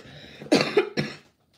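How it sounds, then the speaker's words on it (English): Two close coughs from a person getting over a cold, a rough burst followed by a second shorter one, then quiet. "I'm just getting over this cold stuff. But it just coughs though."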